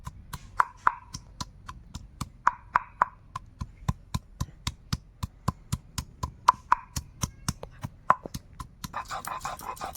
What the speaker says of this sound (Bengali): এখানে আমি আদা নিয়েছি, এটাকে বেটে নেব